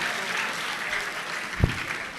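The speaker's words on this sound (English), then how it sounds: "please can we give him a bit of Thunderous round of applause" Applause fills a hall at a leadership lecture and award ceremony, a steady even wash of many hands clapping with one louder thump partway through, sustained throughout.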